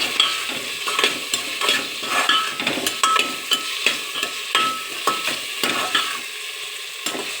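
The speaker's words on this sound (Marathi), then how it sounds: "टोमॅटो थोडा मऊ होईपर्यंत आपण ह्याला असंच परतून घेऊया" Tomatoes sautéed in a pan, a loud, near sizzle broken by a steady rhythm of spatula strokes scraping and tapping the pan, with no one speaking.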